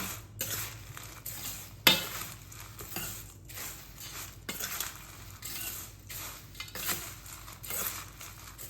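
A flattened rice (aval) mixer with curry leaves is stirred in a hot pan, a spoon scraping and clinking against the metal in repeated strokes over a soft, steady sizzle, close and with no talking.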